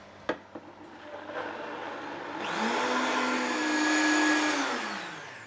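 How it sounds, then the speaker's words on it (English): A blender whirs up to a loud, steady motor roar while mixing soya milk and lemon juice, preceded by a few clicks and knocks as it is set up, with no talking. "So you put it on your blender."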